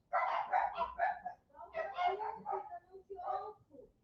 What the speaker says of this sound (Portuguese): Faz o cachorro ficar quieto.